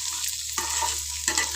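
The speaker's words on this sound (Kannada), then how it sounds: "ಒಂದು 2 ನಿಮಿಷ ಇದನ್ನು ಚೆನ್ನಾಗಿ ಎಣ್ಣೆಯಲ್ಲಿ ಈ ಥರ ಹುರ್ಕೊಳ್ಳೋಣ. ನೋಡಿ, ಚೆನ್ನಾಗಿ ಇದು ಫ್ರೈ ಆಗ್ತಾಯಿದೆ" Radish pieces fry in hot oil in a pan, a steady close sizzle with two bursts of stirring scraping through the crackle, no voices.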